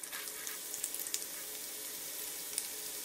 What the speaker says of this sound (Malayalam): എണ്ണ നന്നായി ചൂടായി കഴിയുമ്പോ ഇതിലോട്ട് അരിഞ്ഞു വെച്ചിരിക്കുന്ന സവാള ചേർക്കാം.